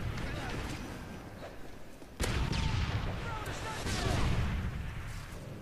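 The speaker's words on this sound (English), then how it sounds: "someone's using RPGs" RPG rocket fire in the Modern Warfare 3 video game on the Terminal map, a sudden loud blast cutting in partway through a rumbling wash of battle noise, with a voice talking faintly underneath.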